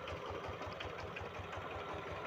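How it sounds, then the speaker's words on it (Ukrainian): A walk-behind tractor engine drives a homemade generator built from a three-phase asynchronous motor with capacitors, giving a steady, close, rhythmic idling drone with a fast regular pulse and no talking. "Ось підключили наші генератори до нашого мотоблока."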